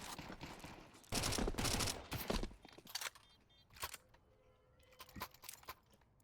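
Gunfire in the video game CS-GO 2: several loud rapid bursts of shots spread unevenly across the stretch, some shots closer and louder, others fainter, with quieter game noise between them and no talking.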